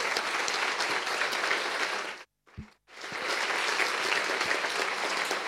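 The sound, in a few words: audience applause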